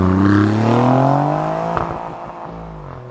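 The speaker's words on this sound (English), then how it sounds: "it's a 90-degree V6 and probably running two separate exhausts, so it's just not a nice noise" An Alfa Romeo Giulia Quadrifoglio's 90-degree V6 engine and twin exhausts, close and loud, revving up through a rising, buzzy note before easing off into a lower drone, with no talking.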